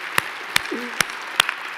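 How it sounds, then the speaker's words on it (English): A handful of sharp, isolated hand claps from the audience at a mayor's State of the City address in New York, coming as about five separate, evenly spaced claps rather than full applause. "Yes, you can applaud for that."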